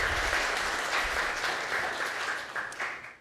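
An audience at a school district board of trustees meeting gives a round of applause, a dense steady clapping that holds for a few seconds and then starts to thin out at the end.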